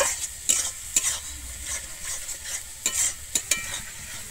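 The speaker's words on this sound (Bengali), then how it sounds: "জল দিয়ে কিন্তু আমি মশলাটাকে আবারও ভালোভাবে কিন্তু এখানে কষাতে থাকবো।" A spatula stirs and scrapes spice paste with a little added water in a pan for a Bengali egg and potato curry, with steady sizzling and a few sharp taps against the pan.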